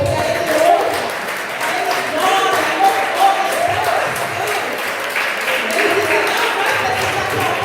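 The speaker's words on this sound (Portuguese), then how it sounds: "Aplauda o Senhor." A church congregation claps and applauds throughout, a dense, sustained, fairly loud crowd sound with voices mixed in underneath.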